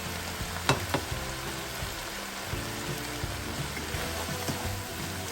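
Cold rice frying and being stirred in a pan, a continuous close sizzle with occasional scraping knocks of a utensil.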